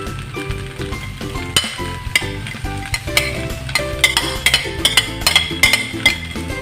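Ilocano-style homemade fried rice is stirred in a pan, with a utensil scraping and clinking repeatedly against the metal over a steady low sizzle, close up with no talking.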